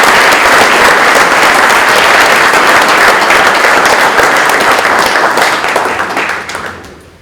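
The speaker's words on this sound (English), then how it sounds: "So I think we give them the biggest round of applause." A large audience applauds steadily in dense, continuous clapping that holds strong before fading out at the end.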